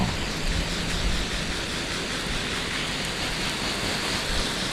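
Steady hiss of water spray with liquid fertilizer pattering down like rain onto vegetable plants, continuous and even throughout, with no voices.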